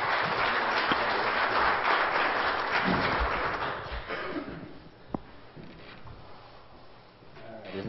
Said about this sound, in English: Can we give him and the Lord a hand clap today?